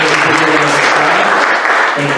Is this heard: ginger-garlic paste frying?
no